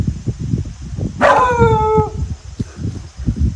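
A guard dog gives a single sharp bark with a short whining tail, fairly close, over a steady low rumble of background noise.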